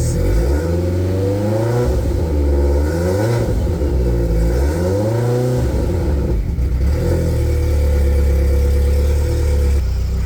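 Car engine from a vehicle with hidden crash damage, revved in repeated throttle blips that rise and fall over a steady idle, close and loud, with no talking.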